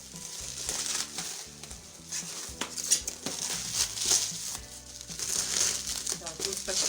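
A microwave oven lid, a Samsung GE83KRW-1/BW accessory, being unwrapped from stretch film and bubble wrap, with steady crinkling and rustling plastic throughout, sharp crackles, and music in the background.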